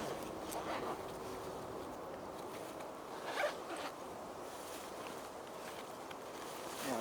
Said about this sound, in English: Let's zip that up.